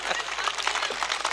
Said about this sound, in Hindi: कृपया करके ताली बजाइए